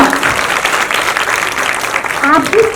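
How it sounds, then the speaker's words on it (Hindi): Steady applause from an audience at a charity foundation event, honoring Saurabh Pandey, dense and sustained throughout, with a voice breaking in near the end. "जोरदार तालियां सौरभ पांडे के लिए"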